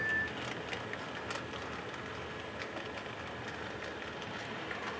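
An HO-scale model train runs steadily along its layout track, a continuous low rumble with faint clicking, fairly close and unbroken throughout.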